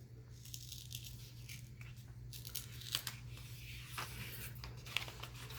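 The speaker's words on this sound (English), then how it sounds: "carefully pull up my tape." Tape being slowly peeled up off paper, a soft continuous crackling and tearing rasp close by, faint and drawn out with a few brief sharper snaps over a steady low hum.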